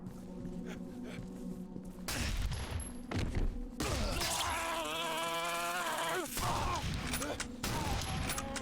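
Gunfire in the horror video game Condemned: Criminal Origins, with a few loud sharp shots and thuds standing out over a dense mix of game noise and low speech.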